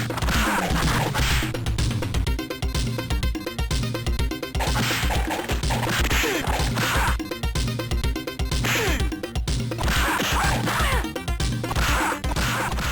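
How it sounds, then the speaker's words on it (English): Punch and kick hit effects from the IK+ video game, sharp digital smacks and thwacks repeating in quick rhythmic bursts over a looping chiptune backing, loud and continuous. "whenever you make a kick or punch, and whether you make contact or not, you get the sound effect"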